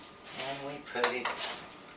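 A glass canning jar knocks against a metal pot as it is set into heated water, a brief close clink amid faint speech and kitchen clatter.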